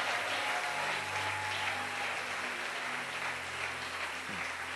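A church congregation applauds in steady, continuous clapping at moderate distance, with a low hum running underneath and no voices breaking through.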